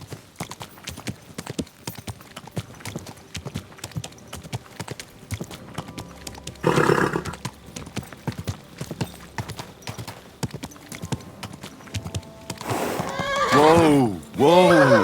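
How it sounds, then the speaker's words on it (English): Horse hooves clip-clop steadily through a Kingdom Come Deliverance II game scene, joined near the end by a loud, clear whinny, with someone speaking calmly over the footsteps. "Easy, good horse."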